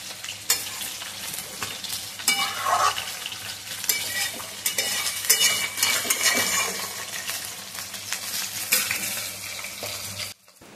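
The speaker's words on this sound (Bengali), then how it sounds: "মাছ ভাজা করছি।" Bata fish fries in a pan with a dense, continuous crackling sizzle and spatter, close and fairly loud, with occasional scrapes and clicks, and no talking.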